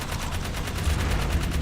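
Rapid automatic gunfire from the video game Jak 3, fired at a bug: a steady, fast stream of shots with an even rapid-fire rhythm lasting under two seconds, loud and close with no talk over it.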